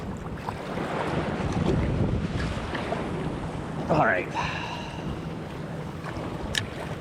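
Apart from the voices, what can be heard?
surf waves and wind on Newport Beach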